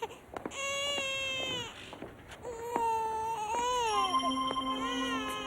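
An infant cries in a hospital nursery for a critically ill, drug-exposed newborn: repeated wailing, strained sobs with breaks between them, close and fairly loud, with no talking over it.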